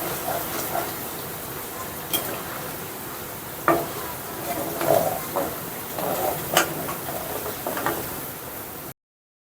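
Ginger-garlic paste fries on a low flame in oil left from frying chicken for chicken pickle, giving a soft, steady sizzle with occasional scraping stir knocks from a spoon against the pan, close and fairly quiet.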